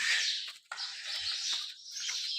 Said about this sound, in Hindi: यहाँ पे बड़ी खूबसूरत आवाज़ें आ रही हैं परिंदों की आवाज़ें